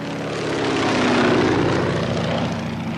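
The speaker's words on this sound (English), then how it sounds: "it makes the best noise of any airplane I know" A vintage Stearman biplane's engine and propeller give a loud, steady, throaty drone with a deep pulsing beat that swells slightly, heard close and alone.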